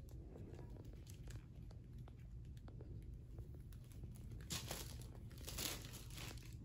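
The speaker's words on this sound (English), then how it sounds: "He loves the paper, the sound of the paper." A nine-month-old baby handles and crinkles paper, giving soft rustles and crunches nearby that swell louder toward the end over a low background rumble.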